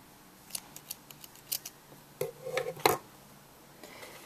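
Scissors snip off crochet yarn ends on a baby-sized Minion beanie, giving a run of small, close, quiet clicks followed by a few louder snips, with no one talking.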